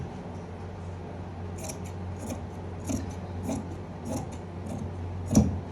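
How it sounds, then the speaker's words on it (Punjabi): Scissors cut lining fabric for a women's suit, making several soft, close snips spaced over a few seconds above a low steady background hum. "ਇੱਕ ਤੋਂ ਆਪਾਂ ਥੋੜਾ ਜਿਹਾ ਵਧਾ ਕੇ ਲਾਈਨਿੰਗ ਨੂੰ ਕੱਟ ਕਰ ਲਾਂਗੇ"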